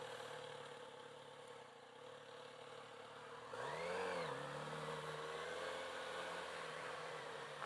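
A 2018 Kawasaki Z900RS motorcycle runs a tight gymkhana course, its engine humming steadily before a quick rev rises and falls midway, then settling back to a steady drone with no talking.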